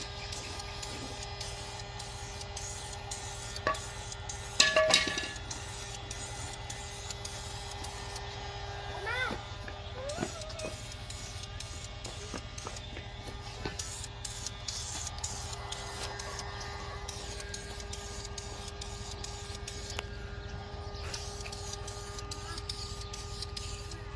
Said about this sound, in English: And then we'll keep hitting it with the heat gun.